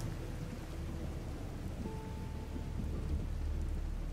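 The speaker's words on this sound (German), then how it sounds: "Diese Unwetter." Thunder rumbles low beneath steady rain in a modded Fallout 4 storm, a continuous dense wash of rainfall with deep rolling swells and no voices.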